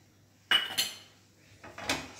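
A kadai pan is set down on the stove for tempering before oil goes in, giving a sharp metallic clank followed by a second knock, then quieter clatter and another clank near the end, close by with no talk.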